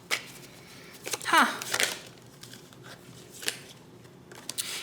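Tarot cards being flipped and handled during a reading, giving a few close, brief papery swishes and snaps, one a longer slide, with a short murmur from a voice.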